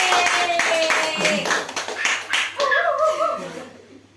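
Group of students applauding in a classroom during a group guidance session, clapping mixed with cheering voices and laughter, fading out after a few seconds.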